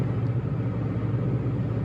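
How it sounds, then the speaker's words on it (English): Steady low road rumble inside a small Mitsubishi Mirage with small wheels, a constant loud tire and road drone while driving, with no voices. "these wheels are a third of the size of my Accords, yet I can hear them"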